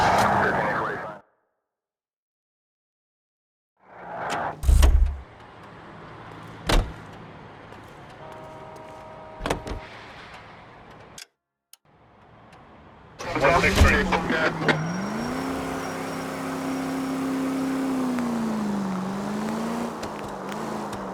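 A car in L.A. Noire: a door thump and engine starting, then a steady engine hum rising and settling as it drives off, with speech heard earlier.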